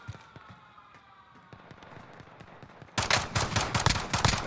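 Gunfire in a tactical shooter video game: scattered single shots come first, then from about three seconds a dense, loud burst of rapid automatic fire close by.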